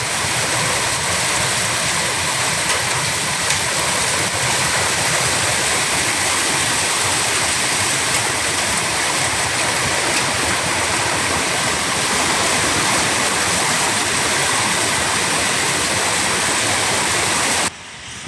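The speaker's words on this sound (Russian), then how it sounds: "Чего еще не было в этом путешествии, так как града" Dense, steady roar of hail pounding a hard roof in Turkey, continuous and loud for the whole stretch before cutting off abruptly.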